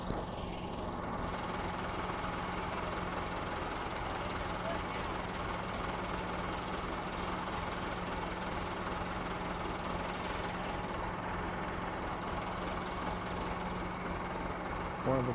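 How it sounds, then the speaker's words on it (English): A tractor engine runs steadily while its bucket is worked under the back end of a camper on a roadside curve; a continuous, fairly low rumble with a faint steady hum and no clear changes in load. "let's watch what happens when the tractor tries to get the bucket under the back end"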